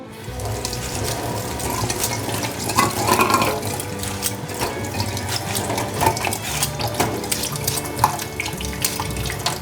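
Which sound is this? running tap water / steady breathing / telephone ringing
running tap water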